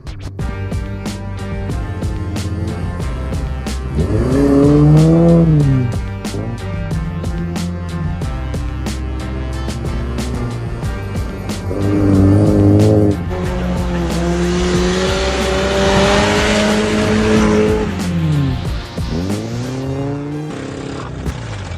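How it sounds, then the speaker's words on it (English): A rally car driven hard through the woods at a farm, its engine revving and wailing as the tires squeal and skid through several slides, loud and close with no talking. "just rallying through the woods"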